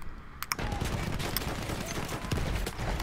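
Rapid gunfire from the small Kolibri pistol in the video game Battlefield 1, with a steady stream of sharp pops over busy battlefield noise and a louder burst near the start.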